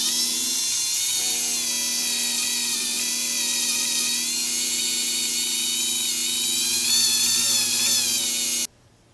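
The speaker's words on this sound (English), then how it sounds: "basically all I'm going to do is get this wet, and turn this on low speed and just let it sand it away." Wet sanding of a wooden ring on a rotary tool running at low speed, a steady, close whine with bright tonal harmonics that holds evenly for about eight seconds and then cuts off.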